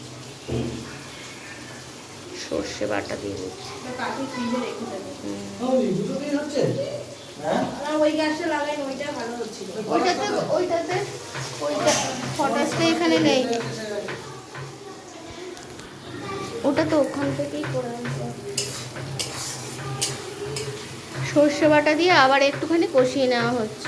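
Mustard paste is tipped into a hot frying pan and set off a soft, continuous sizzle with some stirring, lying low beneath someone speaking through most of the stretch.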